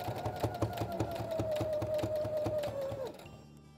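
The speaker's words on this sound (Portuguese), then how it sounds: "como ele é bem macio, não tem problema, a maquininha costura de boa" A small sewing machine stitches soft plush fabric for a stuffed lion, running in a steady fast rhythmic whir with a rising motor tone, then stopping abruptly near the end.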